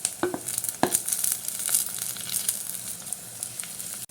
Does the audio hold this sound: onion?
yes